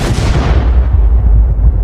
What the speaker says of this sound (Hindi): बम फट जाता है